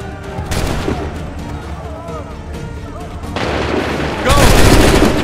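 Musket volley fire in the Assassin's Creed 3 battle, with shouted voices over distant booming gunfire, then a loud, close crash of massed musket shots near the end.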